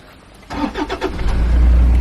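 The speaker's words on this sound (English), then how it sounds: "gripe I have with this car is to do with the engine. We're gonna start it up for this." A 2015 Toyota Prado GX-L engine cranks briefly and catches, settling into a loud, steady idle rumble close by with no talking.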